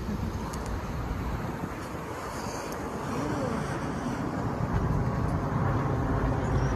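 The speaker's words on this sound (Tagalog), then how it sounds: "Yung hangin niya nagpapalamig, Abi." Steady broadband wind rushing across the microphone along the Golden Gate, a continuous low roar that swells slightly in the second half, with no clear voices.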